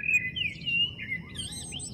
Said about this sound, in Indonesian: Kendole adalah seruling dari batang padi.